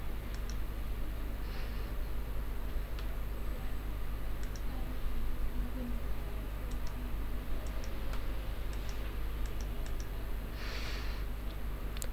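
A computer mouse gives sparse, sharp single clicks at irregular intervals over a steady low background hum.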